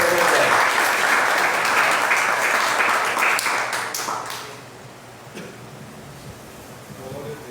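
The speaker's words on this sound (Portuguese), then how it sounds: "Aplauda o Senhor para você." A church congregation applauds in a warm, thick burst that fades over a few seconds, leaving a hushed room with a few scattered claps and faint murmurs.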